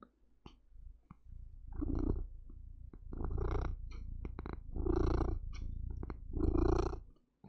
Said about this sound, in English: This episode has been interrupted by a cat suddenly needing attention.